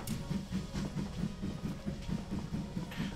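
A train rolls along the tracks in a VR shooter game, with a steady rhythmic clickety-clack of wheels over rail joints repeating evenly throughout at moderate volume.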